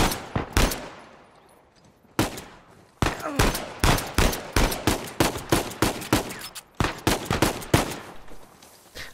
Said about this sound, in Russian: А типа выстрелы сейчас никто не услышит